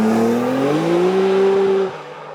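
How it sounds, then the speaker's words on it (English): A 1975 Datsun 260Z fitted with an RB26 engine drives past close by, a loud rising engine note climbing in pitch then dropping off sharply as it moves away. "I drive a 1975 Datsun 260Z"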